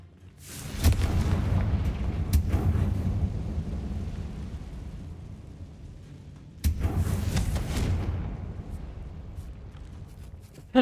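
Two heavy blasts of the Confringo spell in Hogwarts Legacy, each a sudden loud boom with a long rumbling decay, the second following about six seconds after the first, with no talk over them.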